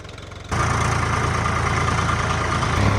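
A tractor engine with a noisy pump, starting abruptly and then running at a steady, loud idle with a constant mechanical drone and hum, close by.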